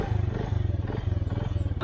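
A new motorcycle sets off at the start of a long trip, its engine giving a steady, low, pulsing rumble close by.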